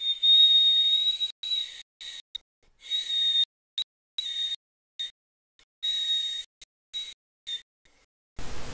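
Coin whistling with two coins held to the mouth: a steady, piercing high-pitched tone in repeated bursts and short phrases with brief gaps, played alone with no talk.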